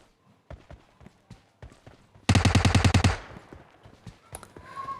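Automatic rifle fire in PUBG Mobile: a loud, rapid burst of about a dozen evenly spaced shots lasting under a second, with scattered single shots and footstep-like thumps before and after.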